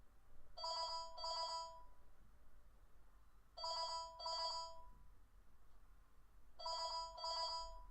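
A telephone rings in an indoor room, a close electronic ringtone sounding in three spaced pairs of bright, buzzing chirps over a faint steady background hum, with no talk.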